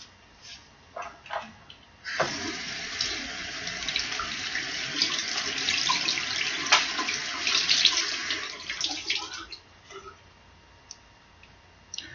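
Water running from a bathroom tap while a face is washed, a steady close splashing stream starting after a few light clicks and taps, continuing about eight seconds before stopping, followed by a few drips and knocks.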